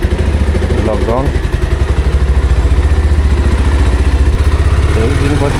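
A motorcycle rumbles with a fast, regular engine pulse, loud and close from the rider's position, as someone talks over it throughout.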